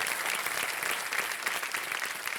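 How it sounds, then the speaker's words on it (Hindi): A TV quiz show studio audience applauds to welcome a KBC contestant, a dense, lively burst of many hands clapping that stays loud throughout. "तालियों के साथ हम चाहेंगे कि उनका स्वागत हो जाए"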